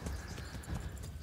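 Horse hooves clip-clopping at a galloping pace in Kingdom Come Deliverance, a rapid steady beat of thuds that stays up close, with no talk over it.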